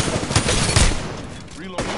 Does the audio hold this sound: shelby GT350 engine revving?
no